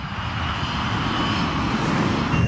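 An Avianca Flight 52 airliner roars steadily as it pulls up in a missed approach, a loud continuous broadband engine rumble with no breaks.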